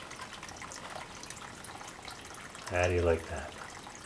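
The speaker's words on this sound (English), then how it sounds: "Spring-fed water. Coming in." Spring-fed water runs steadily into a well, with the pump not yet switched on, giving a continuous soft wash of flow throughout; someone speaks briefly near the end.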